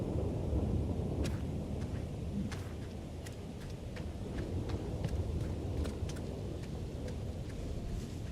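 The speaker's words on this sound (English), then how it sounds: "Thunder and lightning, very, very frightening me." A thunderstorm rumbles in the survival game Aloft, low rolling thunder beneath steady wind and rain noise, with faint clicking sounds scattered throughout.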